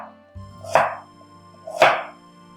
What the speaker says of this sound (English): We are going to slice the onions.